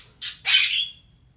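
A bird lets out two harsh, loud squawks in quick succession, close by, with a faint low hum underneath and no talking.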